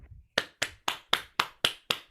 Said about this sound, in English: I had to unmute and clap